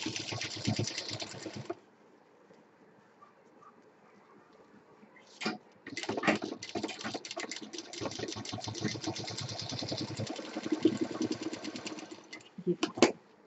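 A sewing machine stitches a bag's lining and zip, running in several close bursts separated by pauses, with a voice talking during the quiet stretch between runs.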